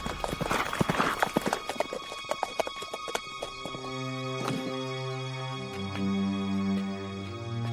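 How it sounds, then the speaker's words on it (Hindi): A horse's hooves clip-clop in a quick, uneven run of sharp strikes up close, with a brief whinny, before settling into a steady low rumble with tonal music. "तात्या, ये तो श्रीमंत साहब का घोड़ा है।"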